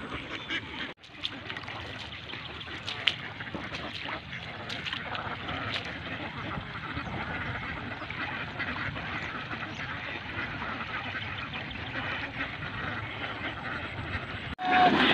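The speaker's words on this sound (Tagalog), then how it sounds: "itong mga alagang itik natin, pinapahinga po natin bago na naman po natin itawid ulit" Domestic free-range ducks on a Philippine duck farm quack steadily in a dense, continuous chorus that holds for the whole stretch, with no talk over it.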